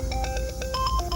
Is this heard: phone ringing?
yes